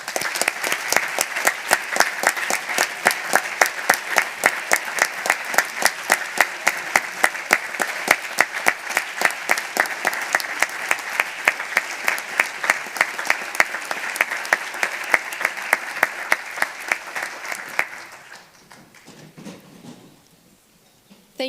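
Sustained audience applause for Security Council delegates rising at a Model UN closing ceremony, dense steady clapping from a large crowd for about eighteen seconds before fading out, with no talking over it.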